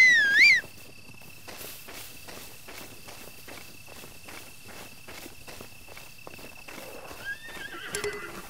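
A horse in the video game The Legend of Zelda: Breath of the Wild gives a loud whinny, then its hooves clop in a steady walking rhythm over a chirping cricket backdrop, with a second call at the end.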